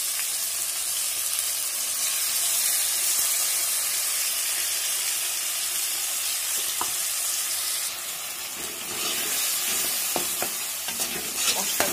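Spice paste of green chilli, dried chilli, garlic and ginger frying with onions in a pan, a steady loud sizzle with scraping stir strokes, brief clinks and a hiss of fresh steam midway, no voices.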